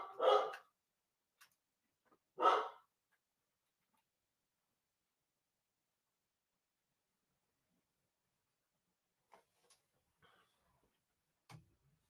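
A dog barks twice in a living room, two sharp loud barks a couple of seconds apart, followed by a long near-silent lull broken only by a few faint clicks and taps.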